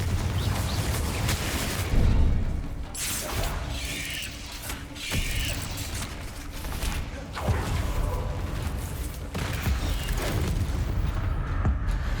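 The Confringo fire spell bursts in the Hogwarts Legacy video game, a loud rumbling blast that swells over dense, constant game noise, with crackling rushes and no clear pauses.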